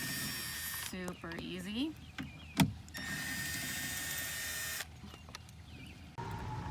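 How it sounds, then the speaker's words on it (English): A Milwaukee M12 impact driver undoes two bolts for rear grab bars, with sustained whirring bursts separated by short gaps and a brief sharp hit, while a person speaks briefly between runs. "we're going to use this Milwaukee M12 impact to undo these two bolts up here"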